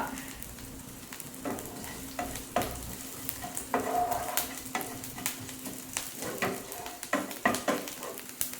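Dried prawns sizzle while they roast in a pan, with a soft continuous crackle and repeated scraping strokes from stirring.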